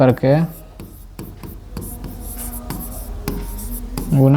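An equation being written during a Class 10 math lesson gives repeated short, scratchy strokes and taps in an irregular rhythm, close and clear. A voice speaks briefly at the start and again at the end.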